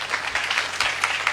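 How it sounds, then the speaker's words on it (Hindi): A church congregation claps together in brief applause, a steady wash of many hands at moderate loudness with no voices over it. "आप यहां ताली बजा सकते थे।"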